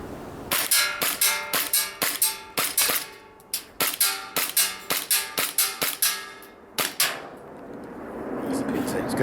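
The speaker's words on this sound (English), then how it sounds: "Let's get some mags warmed up with some green gas, and we'll go and shoot it and see how it does." A CANiK TP9 green gas blowback airsoft pistol fires BBs outdoors at distant targets, with sharp cracking shots in quick uneven strings, each followed by a brief metallic ring, then a pause with faint background hiss.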